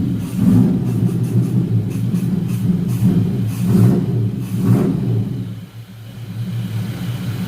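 Suzuki Espass car engine idling steadily after a fuel pump replacement, a low continuous rumble with a few slight swells, close by and without speech.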